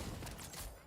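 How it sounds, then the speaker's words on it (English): Shotgun blasts in a Reaper-farming raid game, a rapid burst of overlapping muffled shots filling the short moment, fairly loud and dense. "Shotgun."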